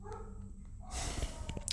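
Several dogs bark and yip outdoors at moderate distance, with short repeated barks and snorts over a steady background hum, loudest in the second half.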